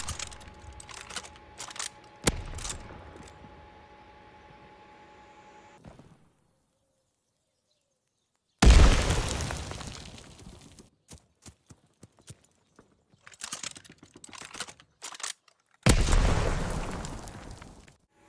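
In Call of Duty Vanguard on the Bocage map, a grenade launcher tube fires and explodes, heard as a loud sudden burst that decays with rumbling debris, followed later by another blast, between stretches of quieter gameplay noise.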